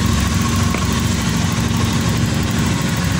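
Car engine idling steadily after a fuel pump replacement, with an uneven, sputtering low rumble that stays loud and constant throughout with no talk.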